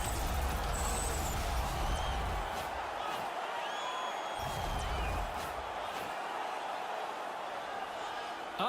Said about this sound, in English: this crowd still buzzing after what we saw